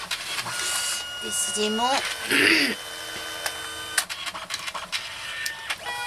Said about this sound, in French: Donc la photo s'imprime.